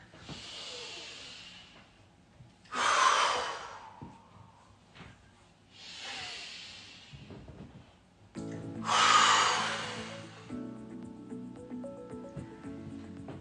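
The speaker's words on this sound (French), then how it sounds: "on va prendre 3 grandes inspirations. Et on relâche à chaque fois qu'on expire" One person takes slow, deep breaths in and out during a guided relaxation exercise, each long airy inhale and exhale breathy and close, separated by short pauses, with no speech.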